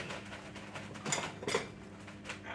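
A big metal spoon scraping and clinking in a pan while scooping sausages and crusted potatoes, a few faint, close scrapes and taps with one or two sharper knocks.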